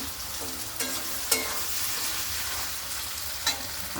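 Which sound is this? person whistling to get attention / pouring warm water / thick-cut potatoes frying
thick-cut potatoes frying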